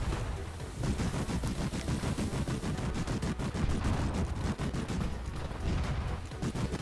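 Battleship guns on the Bismarck in a naval video game fire in rapid, relentless volleys, a dense stream of loud booming shots that barely lets up.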